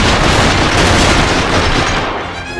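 Dense World War II gunfire in Medal of Honor Rising Sun, a loud continuous barrage of overlapping shots and blasts that fills the whole moment before easing slightly at the end.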